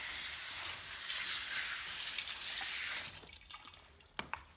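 Running water from a tap as a sewing machine's presser foot is scrubbed with a dish brush, a steady rush of water that stops, followed by a few brief clicks and knocks.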